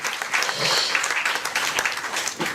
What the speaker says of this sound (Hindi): एक बार फिर से तालियां बजाकर पूरी टीम का स्वागत करें।